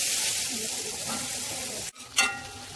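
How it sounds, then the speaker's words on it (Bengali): Onions fry in oil for a kofta gravy, giving a close, even sizzle that stops abruptly near the end before a short clatter of stirring. "এই যে পেঁয়াজ হালকা ভালো ভাজা হয়েছে"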